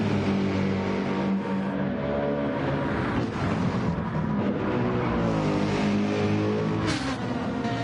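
Gran Turismo 7 race cars at Mount Panorama, one heard from the cockpit of a Genesis following a Mercedes uphill, with a loud continuous engine drone rising and falling through gear changes, plus brief whooshes of nearby cars.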